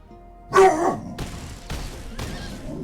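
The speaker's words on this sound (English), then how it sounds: "why is my dog so grumpy?" A grumpy dog gives a single loud bark-like burst up close, followed by softer rustling noise with no further clear barks.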